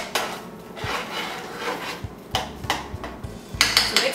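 Spoon scraping and clinking against a pot on a home stove while melted backpacking-meal ingredients are stirred, with irregular close knocks and rasping strokes and no talk.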